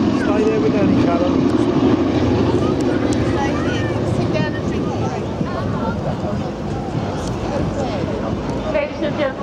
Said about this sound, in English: this is the last pass of Sally B